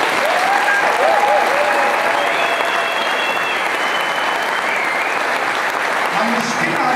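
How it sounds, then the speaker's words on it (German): A live comedy show audience at Steinhof Duisburg applauds loudly and continuously, dense clapping with scattered whistles and cheers from the crowd filling the room. "möchte ich, dass ihr euch selber heute Abend einen Applaus gebt"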